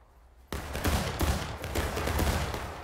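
A musket volley from massed infantry in the Civil War shooter War of Rights erupts after a brief quiet, a long crackling fusillade of overlapping shots rolling on loudly and steadily without pause.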